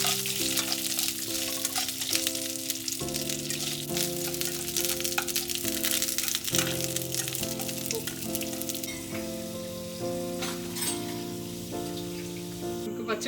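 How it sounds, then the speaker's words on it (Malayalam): Okra sautéing in a pan for sambar, a constant crackling sizzle heard close up beneath steady background music, with no voices. "നമുക്ക് വെണ്ടയ്ക്ക ഒന്ന് വഴറ്റിയെടുക്കാം"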